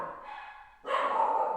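A schnauzer barks twice in quick succession, loud and close, with the second bark fuller and longer than the first.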